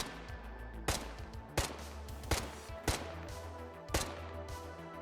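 A Malyuk bullpup rifle chambered in 5.45, shown with the Ukrainian faction in the video game Squad, fires six evenly spaced single shots. Each is a sharp, loud crack with a brief tail, and no talk is heard.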